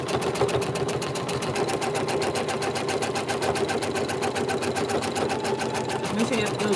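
An embroidery machine sewing a basting stitch on fabric runs at a fast, even mechanical rhythm, close and steady throughout, while a person talks over it.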